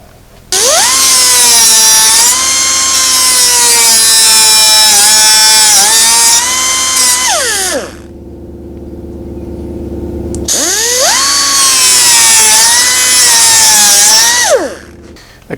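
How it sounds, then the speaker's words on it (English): A power grinder cuts through the weather strip staples on a classic car, a loud high-pitched whine in two long bursts separated by a pause. "My technique is just to grind off the ends in here"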